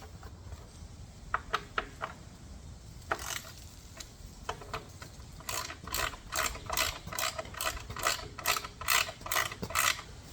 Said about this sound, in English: come back and tighten up these little captured screws here that hold the shield on